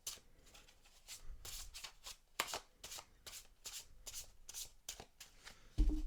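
Tarot cards are shuffled by hand in quick, soft riffling bursts, a dozen or so papery swishes at irregular intervals, close and quiet, ending with a louder thump.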